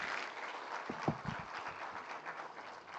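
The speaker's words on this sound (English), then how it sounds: "Huge round of applause, please" Audience applause at a conference conclave, a dense patter of clapping throughout, with a few louder close claps near the middle, moderately faint overall.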